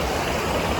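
Clear water of the Reang river at Sittong rushes in a steady, close hiss as a hand dips into it, with no talking.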